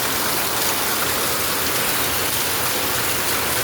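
Heavy rain pours steadily during a downpour at a house in Metro Manila, making a dense, continuous roar of water with no letup, close and loud throughout.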